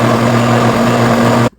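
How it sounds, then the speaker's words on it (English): Blender motor whirring steadily as it purées carrot and turmeric soup, a loud continuous mechanical drone with strong low hum that cuts off abruptly near the end, leaving silence. "let's blend this together for our soup."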